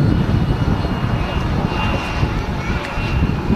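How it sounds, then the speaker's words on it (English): A Qatar Airways Boeing 777-300ER airliner at a windy Manchester Airport makes a steady, loud engine roar and rumble throughout, with a person talking over it. "Switching over to the Qatar 777. 300 ER from Doha."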